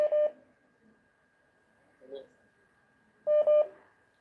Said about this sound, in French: Tozo appelle Yande Konsusu.